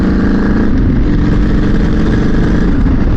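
A motorcycle engine drones steadily and loudly at close range while riding, a continuous mid-range rumble blended with wind rush and no voices.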